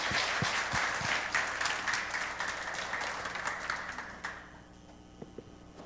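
A prayer-meeting congregation claps in a sustained round of applause that gradually thins out and fades, leaving a few scattered claps near the end.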